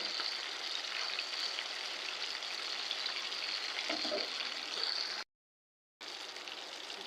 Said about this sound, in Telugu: కాసేపు బాగా ఫ్రై అవ్వాలండి చేపలు